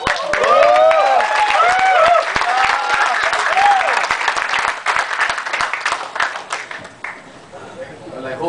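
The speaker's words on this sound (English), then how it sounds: "I hope this applause is a signal of encouragement" Audience applause at a gathering honouring Shiva Prasad Susaria, dense sustained clapping from a crowd that gradually thins and fades toward the end.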